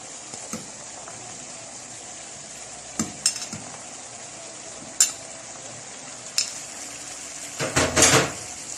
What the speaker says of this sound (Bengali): এখন আমি এটার ভিতর দিয়ে দিব বিট আর সিম।